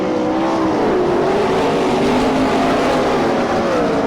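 Loud race cars roar continuously around the Franklin, PA track during an All Stars vs NCRA sprint car shootout, engines droning and shifting pitch as they pass close by with no voices.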